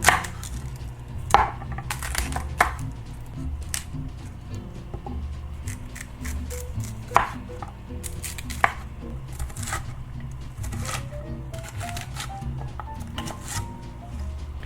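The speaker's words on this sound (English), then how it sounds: "we're going to grab a couple bulbs of fennel and chop them up into 1/4 inch chunks" Knife chopping fennel bulbs into quarter-inch chunks on a cutting board, with irregular sharp close taps and crunches spread over a steady low kitchen background, no talking.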